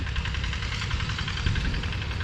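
A tractor engine pulls a harrow across a field being levelled after disking, giving a steady, loud, rumbling drone with a rhythmic knocking pulse and no talking over it.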